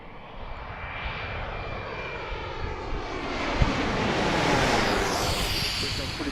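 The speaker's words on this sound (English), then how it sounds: "On runway 4. Coming right over our heads." An airliner landing on runway 4 at Washington National passes low overhead at Gravelly Point, its jet roar swelling loud and near with a sweeping whine, then holding as it goes by.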